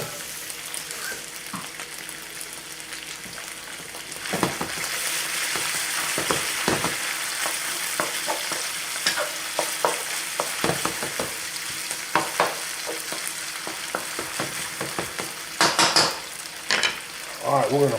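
Beef frying on high heat in smoking-hot toasted sesame oil, a loud steady sizzle throughout with repeated clinks and scrapes of a utensil tossing the meat in the pan, close up and without talk.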